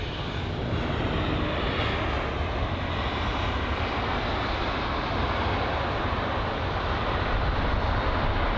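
A British Airways Airbus A320neo arrives at Heathrow, its engines giving a loud, steady broadband roar. The roar holds close and constant throughout with a faint whine on top and no voices.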